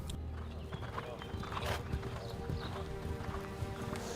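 A steeplechase racehorse at the Grand Steeple-Chase de Paris clip-clops with a steady, faint rhythm of hoofbeats under a constant outdoor background hum.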